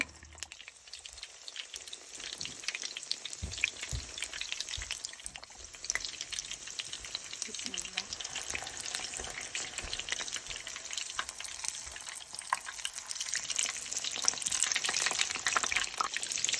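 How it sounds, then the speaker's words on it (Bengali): Kebabs fry in oil with dense, crackling spatter that goes on without a break, near and steady, with no voices over it. "এভাবে করে আমি সবগুলো কাবাব সুন্দর করে ভেজে নেব"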